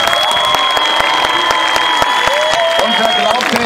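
Arena audience at a gladiator show claps in sharp, regular unison beats with cheering and shouts running underneath, loud and close throughout.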